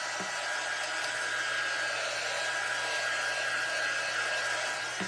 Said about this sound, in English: This dryer does not get super hot, so it's not going to melt my ink mat.